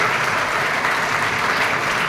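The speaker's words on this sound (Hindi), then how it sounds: "तो बीच में एक बार ताली बजा सकते हैं।" A school audience at a health awareness program claps continuously, many hands making a dense, even applause that holds at a steady level from start to finish.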